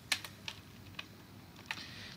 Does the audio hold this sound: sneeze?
no